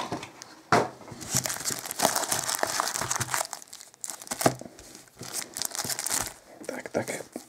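Foil packs of 2017 Topps Chrome soccer trading cards being torn open and crinkled close to the mic, bursts of ripping and crackling foil in an irregular rhythm, with soft murmured talk between.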